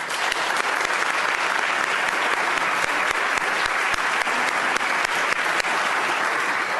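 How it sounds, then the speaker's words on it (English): A legislative chamber full of House members gives Michelle Lee, Director of the US Patent and Trademark Office, a warm round of applause at the Capitol; dense, steady clapping that fills the room throughout. "I'd ask that the House to give Michelle Lee a warm round of applause."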